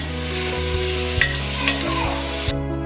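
A spoon scrapes and stirs whole masoor lentils with salt in a metal pot over a steady background hum, with a few sharper scrapes, close and fairly loud.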